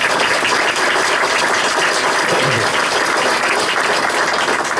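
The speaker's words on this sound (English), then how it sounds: "I'll give that another round of applause" An outdoor audience applauds at a speech marking the 50th anniversary of the Chesapeake Bay Bridge-Tunnel, giving loud, continuous, dense clapping with a rough, wind-like wash and no pauses across the stretch.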